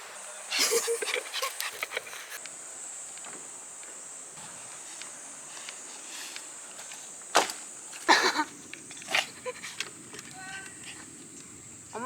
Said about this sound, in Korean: 누구 집 강아지야?